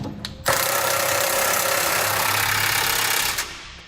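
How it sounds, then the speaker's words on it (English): An impact wrench snugs down the bolts of a B&W Companion fifth wheel hitch on a 2017 Ram 2500, a loud continuous buzzing hammer run of about three seconds, close by, with no talk. "And then we can snug them down with an impact."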